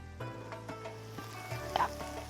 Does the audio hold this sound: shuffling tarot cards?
no